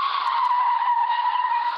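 A car's tyres skid in a sustained, steady screech for under two seconds, loud and close with no voices, a sound effect for a radio drama.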